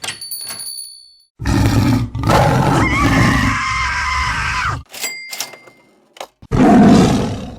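A Bengal tiger gives loud, rough roars in several separate bursts, each a sustained growling blast with brief pauses and a final strong roar near the end.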